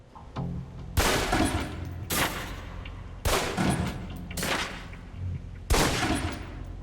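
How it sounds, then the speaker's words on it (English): Five sharp pistol shots ring out at a firing-range target in Alpha Protocol marksmanship training, each a crisp crack with a brief decay, irregularly spaced, with quiet gaps between them. "Equip the pistol, then aim down range and take some shots at the target."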